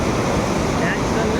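Water at the Manikaran hot springs rushes in a loud, continuous broadband roar, close to the listener, with no breaks.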